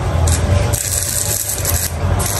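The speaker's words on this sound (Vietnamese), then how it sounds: "đào xuống tí nữa xong vào lấy cưa cái lốc rồi cắt." Close, loud rasping strokes of a saw cutting through wood, repeating in a steady back-and-forth rhythm.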